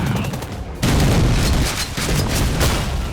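Shotgun fire in a first-person shooter video game: heavy blasts followed by a rapid string of booming, crackling explosions, loud and close, running together with little pause.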